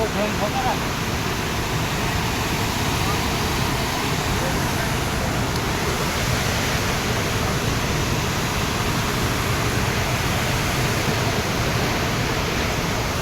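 Steady, loud rushing water at the Khodiyar Maa temple site in Galdhara, a dense unbroken roar that holds evenly throughout.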